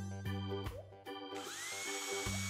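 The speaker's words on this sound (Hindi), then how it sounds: "घर की साइड और छत पर ड्रिल करके छेद बनाएं।" A power drill bores holes through the side and roof of a small pet house, its motor whining steadily in bursts with brief pauses and pitch shifts as it bites in, faint and with no voices.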